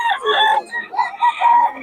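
Rooster crowing on a Philippine farm, a short strained call close by, with voices in the background.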